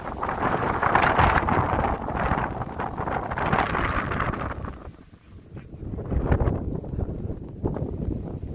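Strong wind gusts across a soggy stretch of the Ridgeway trail in wet weather, a continuous loud buffeting roar that eases briefly midway before surging back.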